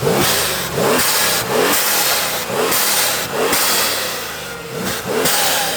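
Turbocharged 800HP Corvette C7 Z06 engine revs hard and loud in repeated bursts, about seven sharp throttle blips with falling tones between them, at a night car meet with no talking.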